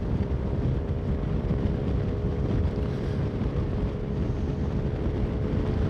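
Wind buffets a GoPro on a suction mount on a motorbike riding in Derbyshire, making a constant loud low roar with no break.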